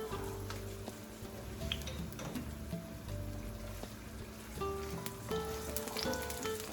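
Oil infused with chile de arbol sizzles in a pan over medium heat for Mexican refried beans, with a steady fry and scattered sharp pops and crackles that stay close and fairly loud throughout.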